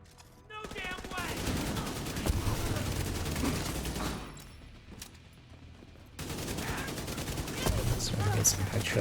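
A light machine gun fires in a video game in long sustained bursts, loud and dense, pausing briefly before the shooting resumes, with a voice talking faintly underneath.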